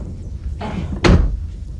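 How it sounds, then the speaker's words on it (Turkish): A back door opens with a short scraping creak, then shuts with a single loud, close thunk, set against quiet room ambience. "arka kapıyı açacağım"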